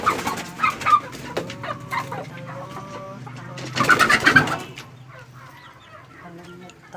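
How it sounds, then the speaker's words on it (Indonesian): Chickens clucking and cooing around a brooding hen sitting on hatching eggs in a rural yard in Blora, Central Java, with a burst of louder agitated calls midway, fairly close. "Ayamnya pada lari semua, takut tak video."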